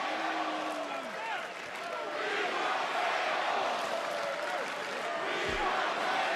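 A sellout wrestling crowd of about 15,000 in a Brooklyn arena during a WWE Raw match, roaring and chanting as a broad, continuous wash of distant voices with a commentator talking over it.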